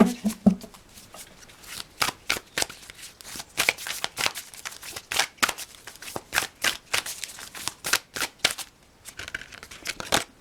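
Tarot cards being shuffled by hand, a rapid series of crisp riffling and slapping bursts repeating close up through the whole stretch, with no talk.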